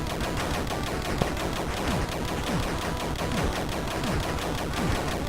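Rapid video game gunfire, bursts of machine-gun shots cracking in quick succession at a steady pace, loud and continuous with no voices over them.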